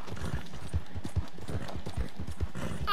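Horse hooves in Red Dead Redemption 2, a steady rhythmic clip-clop of a horse at a trot, close and even, with faint ambient sound behind.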